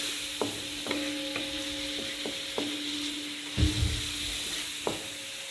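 Pieces of chicken fry lightly in a pan for a Coca-Cola chicken recipe, with a steady soft sizzle broken by repeated clicks and scrapes as they are stirred, and a louder clatter midway.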